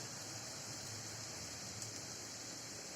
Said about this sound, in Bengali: কলিজাতে দেওয়ার জন্য আমি এখানে কিছু আলু ভেজে নিচ্ছি